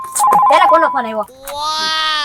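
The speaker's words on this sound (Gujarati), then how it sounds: "પેલા કોનો ફોન આવ્યો" A phone rings with a sustained electronic tone that follows a voice talking loudly up close. The ring is clear and steady until the end.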